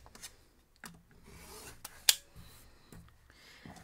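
Fabric edges of a pinwheel quilt block being trimmed to size, a few soft scissor or cutter strokes and rasping rubs close up, with one sharp snip standing out midway, no talking.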